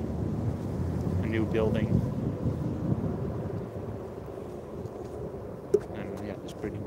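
Gusty wind buffets the microphone outdoors at Arnhem Bridge, a steady low rumble running under a man's speech throughout, with a brief sharp knock near the end.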